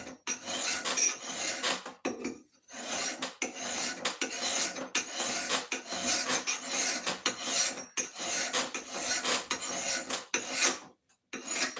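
A hand file rasps along an axe bit during sharpening, each stroke a harsh scraping rasp in a quick, irregular back-and-forth rhythm with short breaks between passes, close and fairly loud, with no talking.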